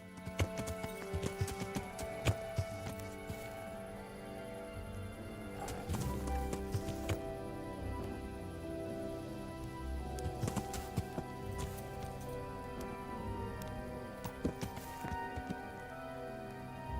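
Horse hooves clip-clop in a steady trot through a medieval open-world video game, a loaded pack horse at night, sounding close and continuous beneath game music and ambient birds.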